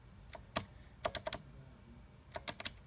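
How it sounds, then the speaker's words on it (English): Clicky keystrokes on a Corsair Strafe mechanical keyboard, arriving in short bursts of two to four presses separated by pauses, fairly close but moderate in level, with no voices. "You can actually listen to my keyboard. This is my Corsair Strafe."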